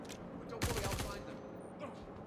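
A short, fairly quiet burst of rapid automatic gunfire from combat in the Star Citizen video game, lasting about half a second over a low background hum.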